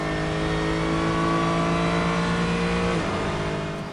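WEC race cars lap the track at COTA, with a loud sustained engine tone passing close by and the pitch dropping slightly as it moves away near the end.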